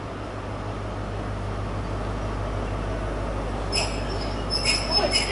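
A British Rail HST arrives at a station platform with a low, steady rumble and faint wheel squeal rising near the end, heard at moderate distance with no talk.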